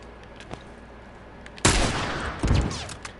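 Gunshots in the video game The Last of Us Factions burst in after a quiet stretch, a loud sustained volley with a second surge near the end, no voices over it.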